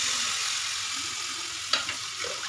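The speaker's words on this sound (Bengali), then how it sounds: "তো এদিকে আমার দেখো আলুটা ভাজা ভাজা হচ্ছে" Potatoes fry in hot oil in a home kitchen, giving a steady close sizzle and hiss, with a brief clink or stirring scrape near the end.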